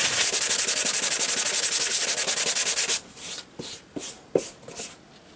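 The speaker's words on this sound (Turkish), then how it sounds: "80 zımparayla kaba zımparalama işlemini tamamladık" Coarse 80-grit sandpaper rasps rapidly back and forth on a car bumper for about three seconds, loud and close, then breaks into a few short scratchy strokes.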